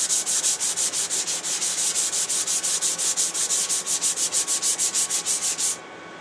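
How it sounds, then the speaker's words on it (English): Rhythmic strokes of 180 grit sandpaper sanding a wooden disc, steady evenly spaced scrubbing passes loud and close, stopping abruptly near the end. "I'll come back and sand with the grain to clean up any marks or irregularities or whatever."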